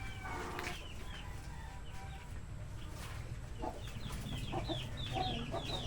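Several chickens cluck and cackle close by in an ongoing, busy chorus while being fed, with occasional rustling in the background.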